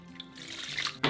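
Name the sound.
pouring sugar and distilled white vinegar into pot of zucchini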